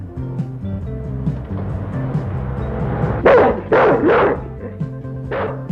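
A dog barks several times, loud and close, with a few bright yelping barks in quick succession over background music.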